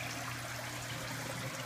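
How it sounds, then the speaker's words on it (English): Water pours steadily into a 100-gallon fish tank in a home aquaculture setup, a continuous soft rushing trickle, faint and unbroken, with no voices. "Water coming out"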